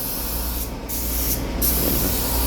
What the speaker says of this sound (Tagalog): Spray gun ang gamit namin ngayon.